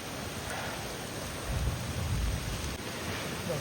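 A strong windstorm with rain roars steadily and loudly, swelling into a heavier gust through the middle before easing slightly; no one speaks.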